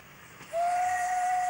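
An Australian steam locomotive in New South Wales, formerly an industrial engine, hauling brake van passenger trains on the Richmond Vale Railway. A steady whistle tone sounds alone and starts abruptly partway through, holding loud to the end over a hissing background.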